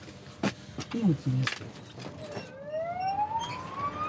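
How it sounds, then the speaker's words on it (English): Ambulance siren in wartime Mariupol rising in a long upward sweep amid clatter and brief voices, growing steadily louder toward the end. "We're interrupted by an ambulance siren."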